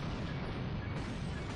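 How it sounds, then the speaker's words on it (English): A video-game explosion in Gekido: a dense, steady burst of broadband rumble with strong low end, loud and sustained for under two seconds with no clear voices. "I walked into an explosion."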